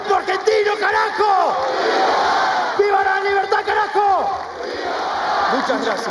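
A large crowd at the Rural agricultural exhibition in Argentina roars and chants loudly after Milei's speech, sustained massed voices with rising shouts and no pauses.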